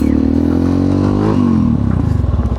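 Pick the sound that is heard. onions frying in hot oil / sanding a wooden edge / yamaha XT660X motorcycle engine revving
yamaha XT660X motorcycle engine revving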